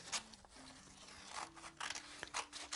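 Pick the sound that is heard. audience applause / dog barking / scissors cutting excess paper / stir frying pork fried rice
scissors cutting excess paper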